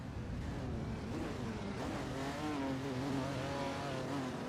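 A Dodge Coronet Super B and a Ferrari 365 GTB race at Daytona in an AI racing game, with engines droning and rising in pitch through gear changes, a steady close roar with faint tire noise.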